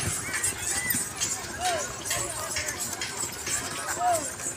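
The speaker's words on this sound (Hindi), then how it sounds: "घोड़ी नाचती हुई चल रही है धीरे" A mare walks slowly with a prancing gait, and her hooves clop softly and unevenly on the ground outdoors, with a few faint bird chirps in the background and no clear talk.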